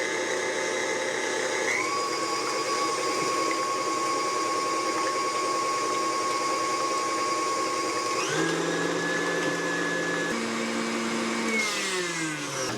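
An electric mixer beats egg whites to stiff peaks for a sugar-free, gluten-free keto chocolate Yule log, giving a steady, loud motor whine that steps up in pitch and speed partway through, then shifts again near the end.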